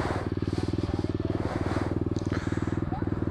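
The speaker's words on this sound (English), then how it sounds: "Go ahead, rev it up." Motorcycle engine idling loudly close by with a steady, pulsing thump and brief revs, and voices talking briefly over it.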